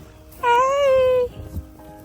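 A sheep out in livestock pens during a winter storm gives one clear, drawn-out bleat lasting under a second, close by, followed by faint shuffling outdoor noise.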